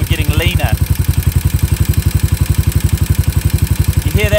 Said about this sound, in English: The idle increased, which means that within a half turn I've managed to increase the idle.